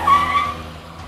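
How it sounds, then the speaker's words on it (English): Turbocharger blow-off valve on a Tata Tiago JTP releasing on throttle lift-off: a sharp, close whooshing whistle that peaks at once and fades away within about a second. "Lift off between say 35 and 4500 RPM and you get the distinct blow off valve noises from the turbocharger"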